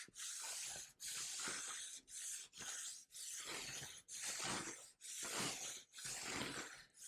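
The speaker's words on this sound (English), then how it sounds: "You may be hearing some scratching noise. That's basically the sponge hitting all the nicks on the edge of the blade." A sponge scrubs along the nicked, rusty edge of an old French Revolution-era sword blade, giving rhythmic scratchy rasping strokes, about eight close passes with brief pauses between them.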